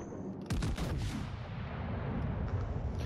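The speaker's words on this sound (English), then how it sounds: "why has this got some piss-ass gun sound? This is 457mm" A 457mm battleship main gun fires in World of Warships Legends, aboard the Ohio: one loud booming blast that rolls on into a long rumbling tail, with no talk over it.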